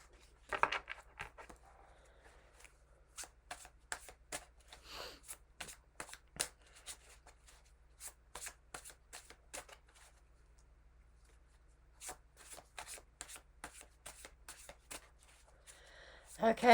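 Slick tarot cards being shuffled in repeated crisp riffling bursts, close and fairly quiet, with a few pauses between rounds and a louder burst right at the end.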